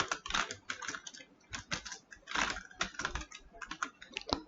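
Fast typing of JavaScript code on a computer keyboard: dense, irregular clatter of key presses in quick bursts, close and moderately loud, with no voice over it.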